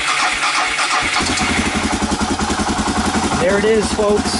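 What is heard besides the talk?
Suzuki DR motorcycle engine starting with lithium battery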